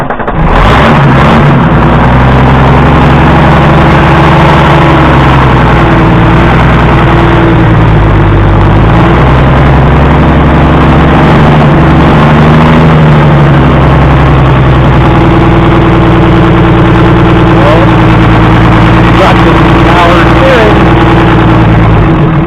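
A Nissan engine runs loud and close, surging and dipping unevenly as it struggles to hold an idle, with rough revving throughout and a voice talking briefly near the end.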